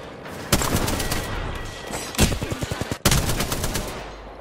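Bursts of rapid automatic gunfire in an Apex Legends match, loud and close, with a rattling run of shots in the middle and further volleys around it.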